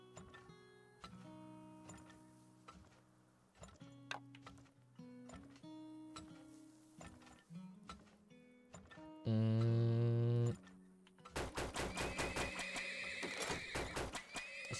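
Horses neigh and whinny in the video game Turmoil: The Heat Is On, with clip-clopping hooves and game music. A loud, sustained burst hits midway, and dense bright game sounds follow.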